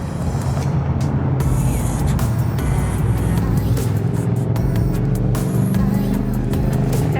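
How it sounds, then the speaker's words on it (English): Harley-Davidson motorcycles rumble past on a busy downtown street in Durango, Colorado, a loud continuous roar of engines mixed with passing traffic. "The Harleys are out."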